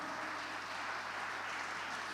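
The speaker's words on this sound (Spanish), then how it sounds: "Dale un aplauso fuerte a nuestro Señor." Steady, dense applause from a church congregation, sustained at an even level throughout.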